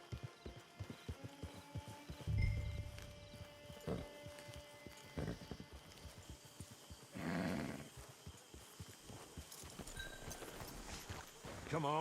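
A horse walking in the Red Dead Redemption 2 game world, its hooves giving an irregular clip-clop under wind-like swells of ambience, with occasional snorts and no speech.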